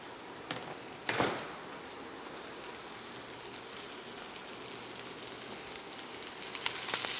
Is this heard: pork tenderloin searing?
yes